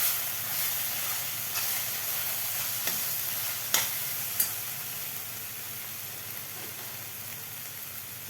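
Mushroom masala with spices is stirred in a hot pan, giving a steady close sizzle and hiss broken by a few sharp clicks of the spoon against the pan.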